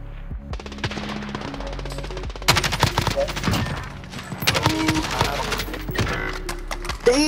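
Rapid automatic gunfire from a Kilo rifle in Modern Warfare, with dense bursts of shots and sharp cracks coming from several directions, under a player's excited talk.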